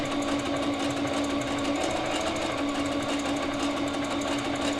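A sewing machine runs steadily and close while stitching knit leggings for a baby or toddler, with a continuous fast whirring hum and no pauses.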